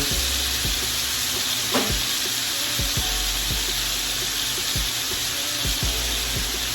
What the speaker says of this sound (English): Turn on the heat a little bit so our butter will melt nicely.